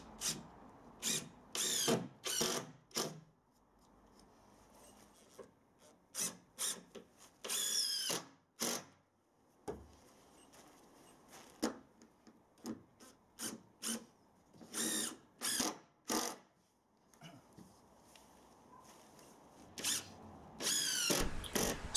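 Power drill driving 65 mm decking screws through OSB sheathing boards into a wooden wall frame, about a dozen short whirring bursts with quiet gaps between them, close and fairly loud.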